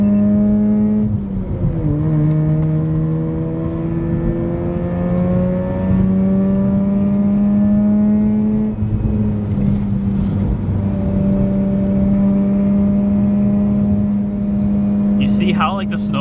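Mazda RX-8 rotary engine droning steadily from inside the car on icy winter roads, its pitch rising and settling as it shifts and accelerates, loud and continuous with a brief clatter near the end.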